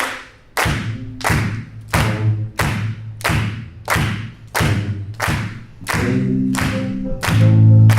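At a jazz performance, audience members stomp and clap four on the floor, a loud, regular beat of heavy thuds paired with claps, with sustained musical tones joining in toward the end.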